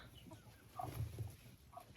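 Hens near a nesting box give soft, low clucks, a short cluster of quiet murmurs with a few brief calls, faint and close, with no talking.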